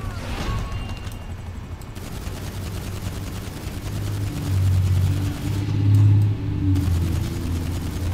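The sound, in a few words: gunfire from a video game, GTA 5 Online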